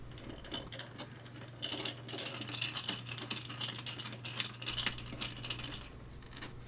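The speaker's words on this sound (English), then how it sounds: "You start by removing the 5 screws at the bottom of the case." Screws come out of the bottom of a Sears 8-track play and record deck case, heard as quiet close-up metallic clicks, rattles and small taps over a faint steady hum.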